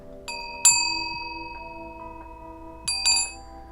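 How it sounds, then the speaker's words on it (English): A small bell rings with a bright metallic ding, then its clear tone lingers and fades before two more quick strikes ring out. "Really like this bell. Let me ring it again one more time."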